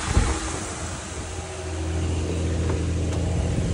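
A Nissan Skyline 350GT with the VQ35HR V6 starts and settles into running, a brief starter burst followed by a steady, close engine drone.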